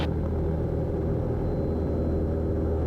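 A Cessna aircraft engine roars at full power during the takeoff roll, a loud, steady, continuous drone with deep rumbling and no voices.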